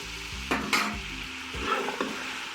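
Chicken for karahi sizzles steadily in a hot pan with ginger-garlic paste while being stirred, with scraping motions and a constant close frying hiss, no voices.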